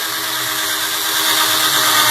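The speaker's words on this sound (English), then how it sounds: "And we'll use a drill." An electric drill spins steadily up close while buffing toothpaste onto a car headlight, a continuous whirring drone that holds level and swells slightly louder toward the end, with no talking.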